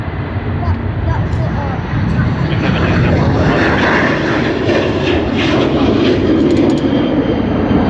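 Vietnam Airlines airliner at Sydney Airport, a steady loud jet engine roar filling the whole stretch with broad rumble, heard alongside nearby talk.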